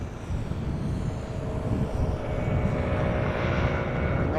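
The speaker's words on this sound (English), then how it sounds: "this is KLM Flight 1128 arriving from Copenhagen. It is a 737-900." A KLM Boeing 737-900, 19 years old, arriving at Amsterdam Schiphol from Copenhagen, its engines giving a steady, fairly distant broadband roar that swells slightly toward the end.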